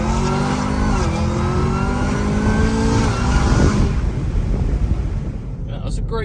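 Chevrolet Camaro ZL1 launching from a dig on cold tires, a loud engine roar climbing through gears with wind noise, fading out at the end.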